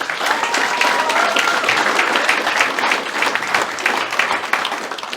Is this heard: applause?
yes